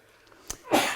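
A single sharp sneeze bursts out during a quiet yoga class, preceded by a brief sniff or intake of breath, close and fairly loud against a hushed room.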